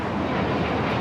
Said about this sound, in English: The 777 freighter now rolling down to